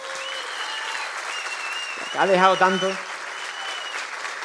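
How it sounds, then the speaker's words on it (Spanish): Steady applause from an audience fills the clip, with someone speaking briefly over it in the middle. "Le podríamos mandar un aplauso"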